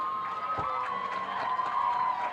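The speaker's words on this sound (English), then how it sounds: "Let's give a big round of applause." A crowd in the stands at Varsity Field applauds during a 1991 high school football game; the clapping is distant and diffuse, with a steady high tone running through it.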